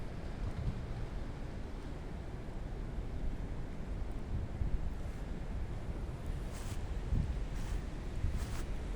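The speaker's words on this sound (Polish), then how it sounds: "pogoda jest paskudna. Wieje wiatr." Strong wind roars and buffets the microphone in a steady, dense rush, with no talking.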